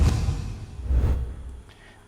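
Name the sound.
swoosh sound effect for butter sauce reveal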